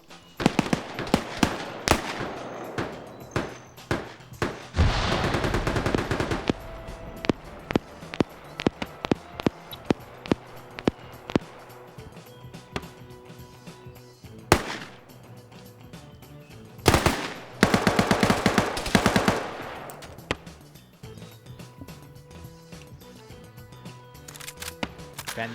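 Rapid bursts of gunfire and machine gun fire, including an MG42, in a PvP shooter game match, with loud sharp shots and dense rattling volleys alternating with scattered single reports and quieter gaps.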